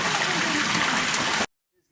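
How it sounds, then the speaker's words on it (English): A loud, steady roar of rushing, cascading water from an underground waterfall inside a glacier fills the first second and a half, then cuts off abruptly into near silence. "The underground waterfall."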